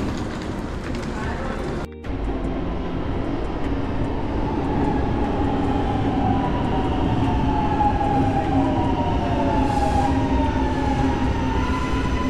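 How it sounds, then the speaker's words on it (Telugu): An underground metro train in Milan runs steadily and loudly throughout, with a continuous rumble and rising and falling whine as it moves, plus a brief dropout near the start. "ఇది అండర్ గ్రౌండ్ మెట్రో ఏరియా, చాలా నీట్గా ఉంది"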